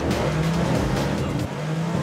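Porsche 911 race car on long studded tyres drifting under braking, a close, loud engine drone with a steady tone and a rough, gritty tyre rush throughout.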